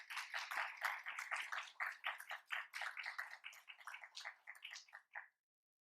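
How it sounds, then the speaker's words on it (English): Scattered, light clapping from a small group at a doctoral commencement and hooding ceremony, fairly quiet, tapering off and stopping near the end. "join me in applauding our two graduates"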